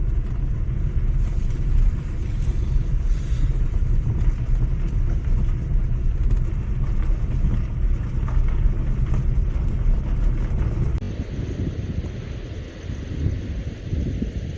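A car engine runs steadily while driving at night through a forest area, a continuous low rumble with road and wind noise that eases slightly toward the end, with no talk.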